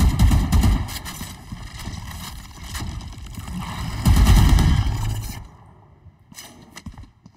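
Gunfire in the tactical shooter Valorant, with rapid bursts of shots and heavier blasts rising and falling over several seconds, then tapering to a few isolated pops near the end, with no talking.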